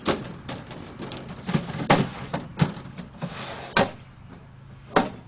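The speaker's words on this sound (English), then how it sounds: "all these back doors slide shut" Rear panel doors of a photo booth slide shut one after another, a series of sharp knocks and thuds with sliding rumbles between them, close and fairly loud.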